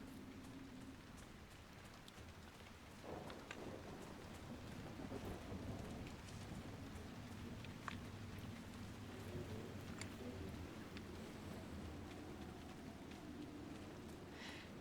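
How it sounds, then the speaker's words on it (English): Steady rain patters on surfaces in the Dragon Age Inquisition video game while low thunder rumbles through the background, the downpour continuous and dense with occasional sharper drips. "They are when the thunder isn't really loud and startling the shit out of you."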